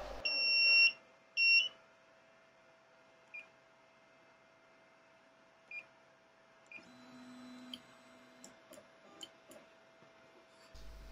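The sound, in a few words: laser engraver beeping when finished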